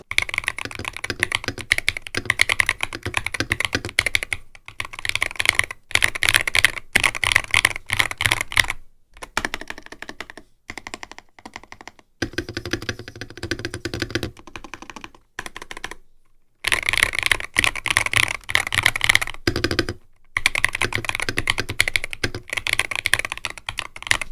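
Fast clacky typing on an EWEADN Battle68 hall-effect mechanical keyboard with internal sound dampening, steady bursts of keystrokes broken by a few brief pauses, close and clear with no talking.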